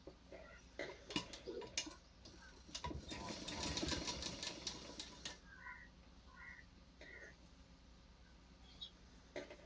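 A sewing machine stitches a frills baby frock for a four-month-old girl, running in a short steady whirring burst near the middle, with light clicks and handling sounds around it at low level.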